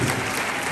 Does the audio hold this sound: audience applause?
yes